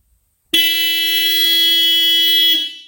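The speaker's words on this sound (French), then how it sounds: "Commande de l'avertisseur sonore." A single loud car horn blast, steady and sustained for about two seconds, sounding close by, with silence before it.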